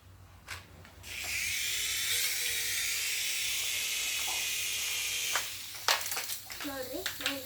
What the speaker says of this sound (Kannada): ಇದು ನನ್ನ ಹೆಲಿಕಾಪ್ಟರ್ ನೋಡ್ರಿ